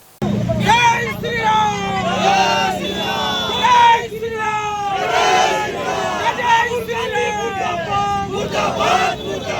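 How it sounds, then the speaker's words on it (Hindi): Hundreds of BJP leaders and party workers protest against Congress, raising loud rhythmic slogans as a close, dense crowd with overlapping shouting voices and steady babble throughout. "सैकड़ों की संख्या में भाजपा के नेता और कार्यकर्ताओं ने कांग्रेस के खिलाफ जमकर विरोध प्रदर्शन किया।"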